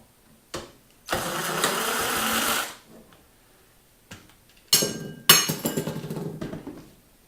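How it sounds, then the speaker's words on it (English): A DirecTV satellite DVR being taken apart for recycling gives off two bursts of scraping, rattling handling noise followed by sharper clinks and clatters as screws are removed from its metal case, close by with quiet gaps in between. "Let's take out some screws."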